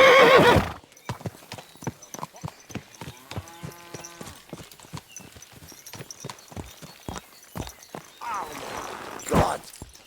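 In Kingdom Come Deliverance II, a horse lets out a loud whinny, then its hooves clop in a steady rapid walking rhythm with a brief neigh partway through, and a voice cuts in near the end.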